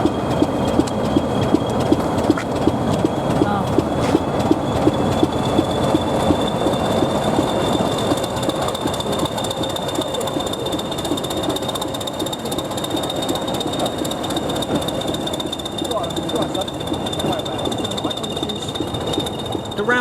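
Class 20 diesel locomotive D8001 running on the Epping Ongar Railway, a steady rumbling engine drone with rattling wheel and track noise and a sustained high whine throughout, with some voices underneath.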